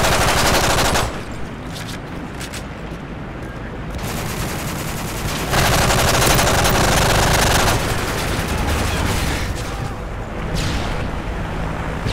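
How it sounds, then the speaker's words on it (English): Strafe-run air strike in Call of Duty Modern Warfare 3 multiplayer: a loud, unbroken wall of rapid automatic gunfire and impacts roars for about twelve seconds, swelling and easing slightly without any pause. "Strafe run incoming."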